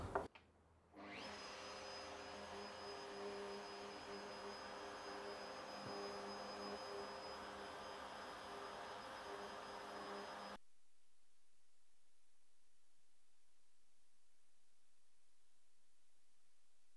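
Router bit spinning while it cuts a wooden piece for a piano stand, a steady loud whine and roar that starts abruptly, holds for about ten seconds and then cuts off.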